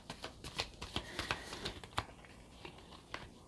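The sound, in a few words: shuffling tarot cards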